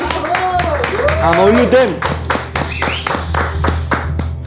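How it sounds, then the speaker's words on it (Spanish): An audience on a spicy-food talk show claps for a guest, with brisk clapping that carries on under lively speaking voices and cheering. "Un aplauso para Gluten."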